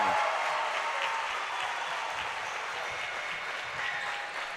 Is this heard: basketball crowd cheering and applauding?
yes